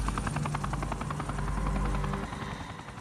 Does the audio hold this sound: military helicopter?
yes